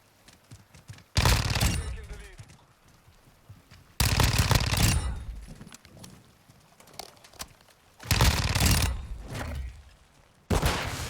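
A Fennec submachine gun fired akimbo in a video game lets off four loud, close bursts of rapid automatic fire, separated by quieter stretches of lower game noise.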